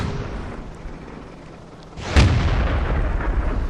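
A tank cannon fires in a World War II tank video game, one deep boom arriving about midway and leaving a long rumbling tail over continuous battlefield noise.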